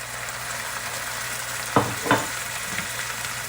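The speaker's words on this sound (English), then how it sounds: "That's the sound that you want to hear as the alcohol burns off." White wine hitting a hot risotto pan and sizzling as the alcohol cooks off, with a steady background hiss and two sharp, loud bursts of sizzle close together near the middle.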